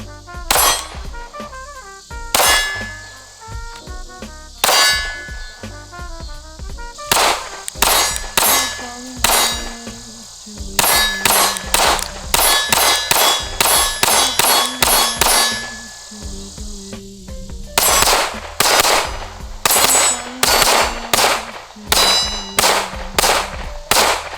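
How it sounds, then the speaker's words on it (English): Shots from a ported Glock 43X pistol ring steel targets in rapid bursts, each sharp crack followed by a bright metallic clang that rings out, strings of hits with short pauses between, loud and close. "Now let's go shoot this pistol."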